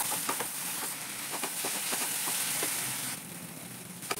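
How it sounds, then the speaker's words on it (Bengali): Bengali spice paste for mushroom kosha sizzling in a pan with a little added water, a steady broadband hiss with light crackles and spatters that eases slightly toward the end, heard alone. "এবার ভালো করে কষিয়ে নেবো মশলাটা।"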